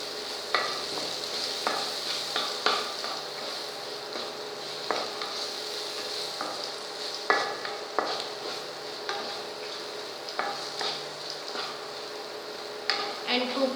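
Poha being stirred and cooked in a pan, with a steady frying sizzle and repeated scraping strokes of the spoon against the pan throughout, fairly close.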